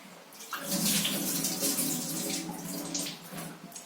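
Water streams steadily into a cooking pot for moong dal, a continuous close splashing rush that fills the whole stretch alone, with no talk.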